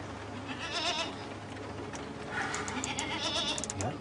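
A goat bleats twice at night after the lights are switched off. There is a wavering cry early on, then a louder, longer run of bleats, close and clear over a low background hum.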